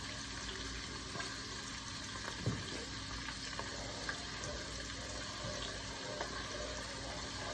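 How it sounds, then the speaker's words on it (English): Food fries in oil in a pan for breakfast, a steady low sizzle and crackle with faint stirring scrapes, heard alone without talking. "you just keep stirring until it's frying."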